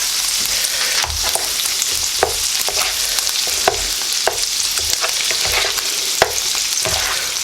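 Chicken fried rice sizzles steadily in a hot pan, with a spatula scraping and stirring at irregular intervals; close and loud, with no one talking.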